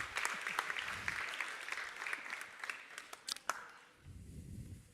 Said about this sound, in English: an applause for the nice summary